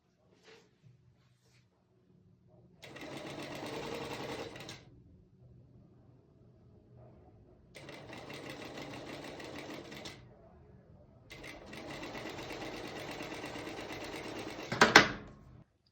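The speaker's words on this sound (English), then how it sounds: "I'm just going to go ahead and stitch the neckline area using 1/4 inch on my sewing machine." A sewing machine stitches a quarter-inch seam along the neckline of tulle fabric. It runs in three close whirring bursts separated by short pauses, ending with a sharp mechanical clunk.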